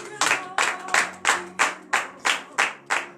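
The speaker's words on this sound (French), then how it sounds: "Donnez l'acclamation à notre Dieu." A congregation at a morning prayer service claps in acclamation to God, loud rhythmic unison claps about every half second, close and strong, with no talk over them.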